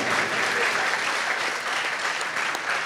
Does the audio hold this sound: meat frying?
no